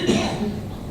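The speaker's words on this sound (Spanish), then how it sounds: "Es que tengo una tos." A single short cough rises from somewhere in the audience at a book presentation, brief and roughly mid-distance against a murmuring room.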